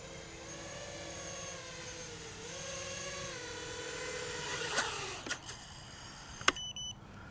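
A drone comes in to land, its steady high propeller whine shifting in pitch as it slows, ending with a few sharp clicks and knocks as it touches down nearby.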